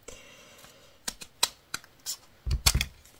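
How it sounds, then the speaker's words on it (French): Scissors snipping scrapbooking paper to size for a pocket letter, a handful of crisp separate cuts that quicken into a close cluster near the end. "Je vais les couper à la dimension."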